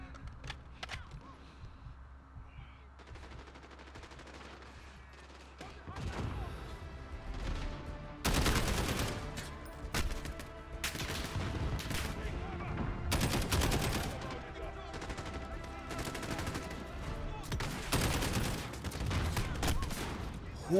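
Heavy gunfire from the video game Modern Warfare erupts after a quieter start, with dense bursts of automatic fire and repeated loud volleys that keep going throughout, under occasional talk.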